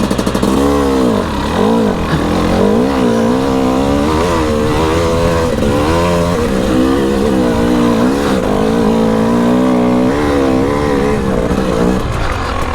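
A Husqvarna TE300i dirt bike revs hard climbing a wet hill, its two-stroke engine loud and close, pitch surging and dipping continuously as the throttle works and the rear wheel spins, with no talk.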